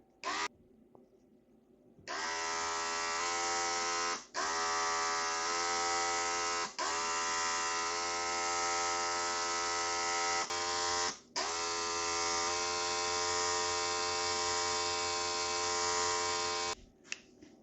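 An xTool airbrush sprays white primer onto laser-cut layered wall art, a steady close high-pitched hiss and whine in long bursts broken by brief pauses.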